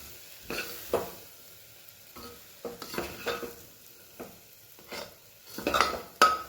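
Masala being stirred and mixed in a frying pan, repeated scraping and clinking strokes of a spoon against metal over a soft sizzle, close and irregular.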